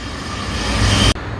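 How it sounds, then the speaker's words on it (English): Near an allotment, a train passes by with a loud, continuous broadband rush and low rumble that swells toward the end before cutting off abruptly. "oh, here we are, train straight away."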